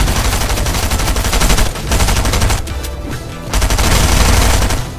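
Rapid, dense gunfire from a Fortnite zone wars match keeps up for about five seconds with only a short dip in the middle. The shots are loud, close and fast, like sprays of automatic fire.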